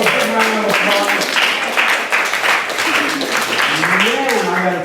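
Audience applause for a volunteer called up at a business meetup, moderate clapping heard under loud talk and voices throughout, fairly thin and uneven.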